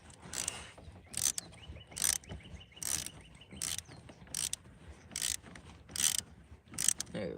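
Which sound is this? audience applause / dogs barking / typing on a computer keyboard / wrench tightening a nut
wrench tightening a nut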